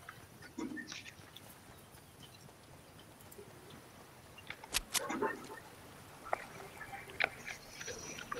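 Chickens cluck in a Fortnite match as sporadic, fairly faint squawks over a noisy outdoor game ambience, with a brief cluster of louder calls midway and more toward the end.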